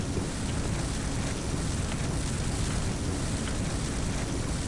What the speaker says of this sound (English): it started raining blood